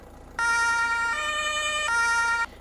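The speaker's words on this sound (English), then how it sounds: "LB and open cover, it's going to turn your siren on" Tractor siren in Farming Simulator 25, a loud electronic wail that switches on abruptly, holds a steady two-tone pitch for about two seconds, then cuts off.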